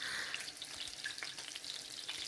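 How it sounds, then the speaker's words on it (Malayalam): Green chilies sautéing in a pan, adding pieces one by one, giving a steady, moderately quiet frying sizzle with small crackles and stirring scrapes throughout. "അതിൽ ആദ്യം പച്ചമുളക് ഇട്ട് കൊടുക്കുക. അങ്ങനെ ഓരോന്ന് വൺ ബൈ വൺ ആയിട്ട് ഇട്ട് കൊടുത്ത് വഴറ്റിയെടുക്കണം"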